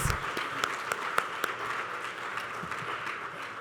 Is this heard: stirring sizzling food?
no